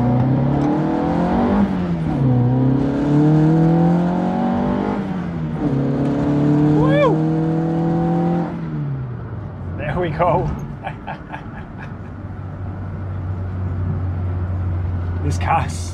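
A Lada Niva's engine revs up through the gears with rising pitch and drops between shifts, loud and close from inside the car, then settles to a steady drone while someone talks.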